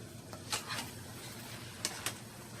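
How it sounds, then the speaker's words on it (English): Olives and other ingredients stirred in a pan for a beef ravioli casserole, faint scraping and soft clinks, with a few sharper knocks of the utensil against the pan over low background noise. "you're just going to mix those around in there"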